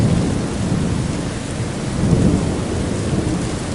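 Steady heavy rain pours in a forest setting, with a continuous low thunder rumble that swells slightly midway, loud and dense throughout with no voices.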